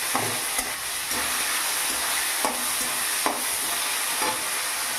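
Chopped tomatoes sizzling in a spice masala over a medium gas flame, a steady close frying hiss with a few soft spatula stirs and scrapes against the pan, no talking.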